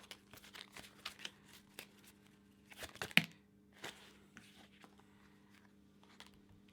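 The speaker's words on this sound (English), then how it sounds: "I'm just going to shuffle these as well." Tarot cards being shuffled by hand, soft papery riffles and slides with a few sharper snaps, close and quiet, in irregular bursts.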